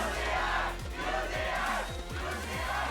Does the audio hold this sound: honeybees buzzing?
no